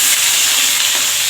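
Pointed gourd (potol) pieces frying in hot oil with panch phoron for a potol-aloo curry give a steady, close, continuous sizzle and hiss that fills the whole moment.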